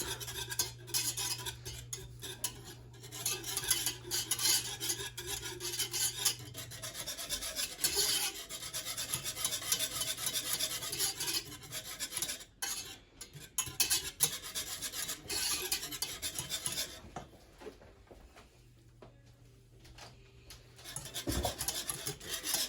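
Gravy thickening in a pan on the heat while a utensil scrapes and rubs across the bottom in continuous rasping strokes, close and steady, with a low hum underneath and no talking.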